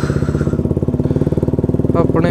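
A motorcycle engine idles with a steady, low, even pulse throughout, mildly rough, while a voice briefly talks near the end.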